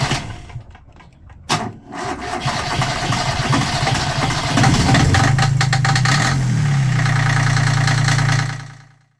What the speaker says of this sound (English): So time to start the engine, check everything, make sure everything works